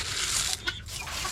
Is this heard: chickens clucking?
yes